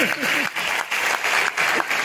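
Bursts of audience clapping at a fiery motivational speech, several short rounds broken by brief pauses, with a voice breaking in between them.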